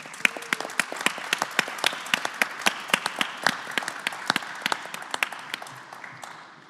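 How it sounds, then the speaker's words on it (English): A live audience at a talk on General Lesley J. McNair breaks into a round of applause, steady dense clapping from a room full of people that carries on for several seconds and then starts to thin out near the end. "let's just give them a round of applause anyway"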